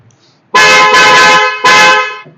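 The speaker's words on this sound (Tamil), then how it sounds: "ஃபர்ஸ்ட் வண்டி ஹாரன் பார்க்கலாம் எப்படி இருக்குதுன்னு." A German-made Hella horn on a Hyundai Verna gives two loud, close blasts. The first is long and the second shorter, each a bright, buzzy multi-tone blare with a short gap between them.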